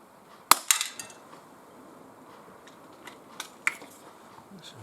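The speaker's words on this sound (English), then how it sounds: "It obviously hit the pellet trap because I heard it" A .22 air pistol pellet strikes a pellet trap outdoors: one sharp metallic crack followed by a couple of lighter clinks, then faint scattered ticks against gusty wind.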